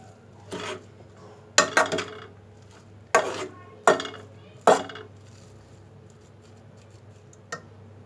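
Aloo bharta, mashed potato with spices and oil, being sautéed in a pan, with a spoon scraping and clacking against the metal in several sharp, irregular strokes over a low steady hum, close up, without talking.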